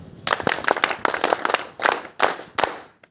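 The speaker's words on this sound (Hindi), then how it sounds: "शाबाश, इसके लिए एक ताली" A small group claps together in a quick, uneven burst of several separate rounds, fairly close by, with brief gaps between the volleys and no talking over it.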